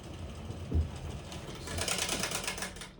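A Reichardt player piano rewinds its paper music roll with a soft, whirring mechanical rattle that grows slightly busier toward the end, close by and quiet, with no one speaking.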